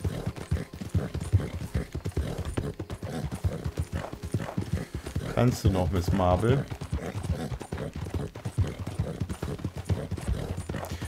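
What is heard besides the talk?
horse hooves clip-clop in a Rockstar video game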